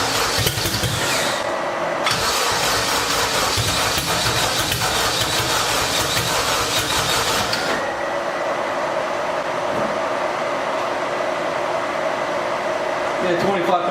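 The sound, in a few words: Toyota MR2 engine running on old turbo map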